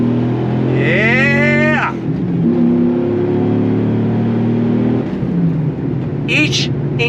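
A Dodge Ram SRT-10 Viper truck pulls hard in second gear on throttle, its engine note climbing loud and close, with someone talking and whooping over it.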